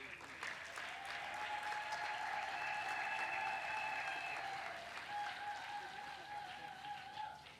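Crowd applause and acclamation honoring an archbishop at a gathering: dense, steady clapping from many hands lasting several seconds, moderately distant, with a faint sustained tone running underneath.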